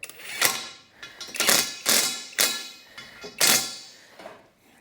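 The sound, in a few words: clamping a clamp block into a Rogue Fab tube bender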